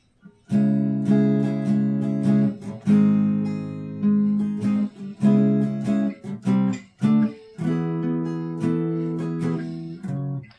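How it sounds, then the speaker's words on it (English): Acoustic guitar chords of a song's verse strummed slowly in a steady pattern, each chord ringing out before the next, clear and close with no voices. "So altogether the verse would sound like this slowly."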